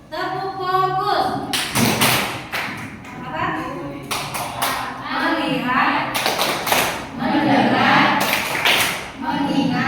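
A classroom of children performs the 'tepuk fokus' focus clapping chant, with rhythmic bursts of group hand claps alternating with spoken chant lines, loud and close.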